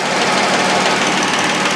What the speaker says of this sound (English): I just started the engine